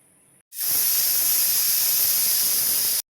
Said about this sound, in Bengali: বন্ধ করে সিটি দেওয়ার পালা